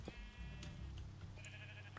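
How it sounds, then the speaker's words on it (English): A Minecraft sheep bleats in a couple of nasal, wavering calls up close, set against a low background drone and light game noise, no voices. "Can sheep not get into 1 by 1s?"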